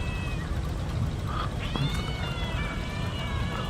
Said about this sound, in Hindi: ओए बिल्ली की आवाज़।